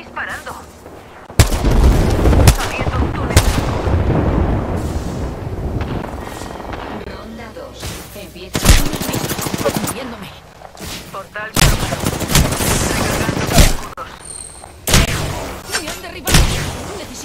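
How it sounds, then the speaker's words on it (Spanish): Shooter video game firefight with gunfire and grenade blasts: loud sharp bursts and booming explosions recurring irregularly, separated by quieter stretches, while voices speak in Spanish over the action. "¡Me están disparando!"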